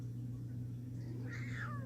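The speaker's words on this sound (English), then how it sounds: "Yes, that is Fuzzy Miss Kitty." A single short, rising-then-falling meow from an elderly house cat, heard near and moderately loud over a steady low indoor hum.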